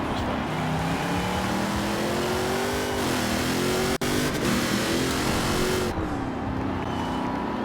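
A drag-tuned Mercedes-Benz GT 4-door in Forza Horizon 4 revs loudly, its engine note climbing and dipping in several sustained pulls, then rising again near the end.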